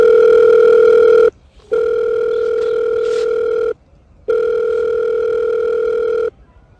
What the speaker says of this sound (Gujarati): જો ફોન કરું સ્પીકર ઉપર રાખું.